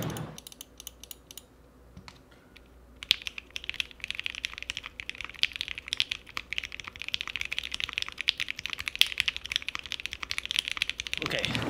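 Rapid typing on a gasket-mounted aluminum 65% keyboard, the Ginkgo65, with dense, steady keystrokes close up; a short quieter stretch of sparse clicks precedes continuous fast typing that runs to the end.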